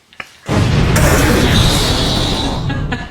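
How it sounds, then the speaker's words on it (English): An edited-in explosion effect bursts in after a brief click, a loud, close boom with a rumbling roar that holds for over two seconds before tapering off. "Can you add an explosion edit?"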